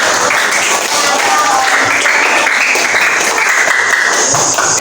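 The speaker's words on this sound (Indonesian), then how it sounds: "Iya, kita berikan tepuk tangan." Classroom applause from students after a group presentation, steady dense clapping filling the whole stretch with a hint of voices mixed in.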